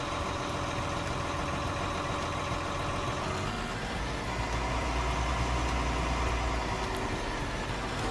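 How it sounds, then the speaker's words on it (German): A tractor engine running on a farm by a silo in Thuringia, a steady low idling rumble that grows slightly heavier partway through, with no talk over it. "Traktor irgendwo."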